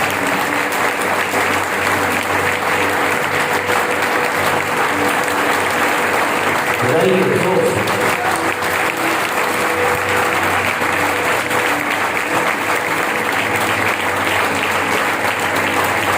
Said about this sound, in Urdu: آئیے زوردار تالیاں سن لیجیے۔